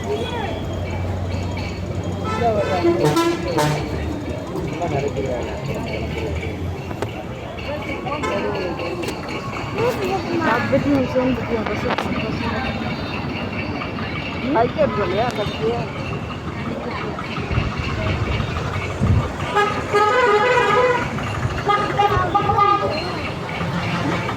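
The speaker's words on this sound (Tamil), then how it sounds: "வண்டி சத்தம் கேட்குது" Road traffic with vehicles passing and repeated car and bus horns honking near and far, a busy continuous roadway din with people talking throughout.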